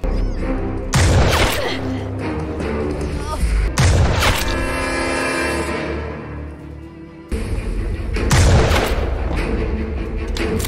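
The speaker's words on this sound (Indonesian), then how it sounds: "sehingga adu tembak pun berlangsung lama." A film shootout sounds with loud, heavy gunshots and booming blasts in bursts, close and dense, with rumbling echoes between the volleys.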